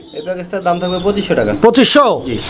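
Pigeons coo close by in a busy pigeon sale setting, with soft throaty calls mixed among people talking.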